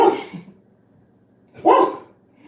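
A dog gives two sharp, close barks about one and a half seconds apart, with quiet between them and no talk.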